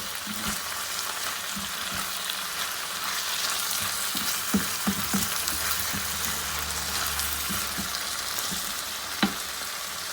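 Onions and minced meat (keema) cook in a hot pan, giving a steady close sizzle that holds for the whole stretch, with a few soft clinks and stirring scrapes now and then and no talking.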